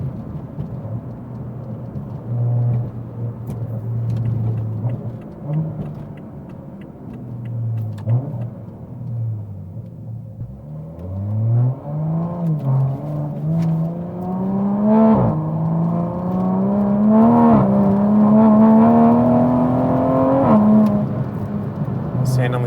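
An MK5 Toyota Supra with over 40,000 miles rolls over rough, bumpy Oklahoma roads, its engine a steady low drone that rises toward the end, with occasional thumps and jolts from the suspension and talk inside the cabin.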